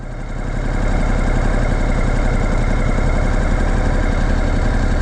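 A Ducati Multistrada Enduro 1200 engine runs on an on-board dyno in enduro riding mode with low engine power, giving a steady, loud, close drone that rises slightly at the start and then holds even.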